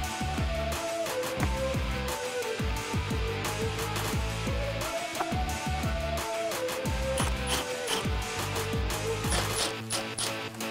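A 5/16 socket ratchet loosens the hose clamps on the resonator box at the throttle body of a 2014-2018 Chevrolet Silverado 1500, with repeated rapid clicking ratchet bursts close by and clinking of metal parts.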